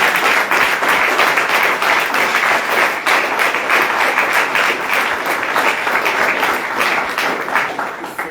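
Dense audience applause following a nutrition presentation, a loud, sustained roar of many people clapping at an even level throughout before easing off at the very end.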